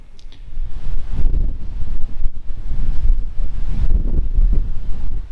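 Gusty wind on the deck of an icebreaker ship in the Arctic buffets the microphone with low, rumbling roars that rise and fall continuously, loud and close.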